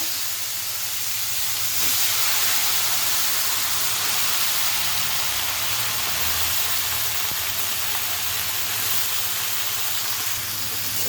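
Spices, including radhuni, frying in a pan for a village-style gourd and rohu fish curry, a loud, continuous broadband sizzle and hiss that swells slightly and holds steady close by.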